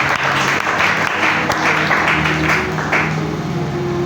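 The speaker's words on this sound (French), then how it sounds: "Acclamons encore." A church congregation gives sustained, dense applause that stays loud and steady throughout, with a few voices mixed into the crowd.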